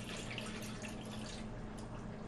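Cold water runs and splashes over potatoes in a kitchen, a continuous close trickle with a low steady hum beneath.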